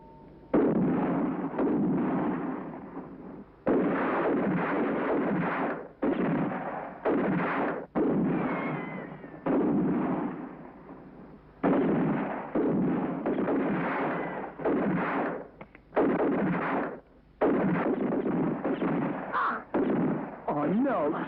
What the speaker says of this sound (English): John, do you have any more bullets? No, I'm nearly out, too. I've only got 3 shots left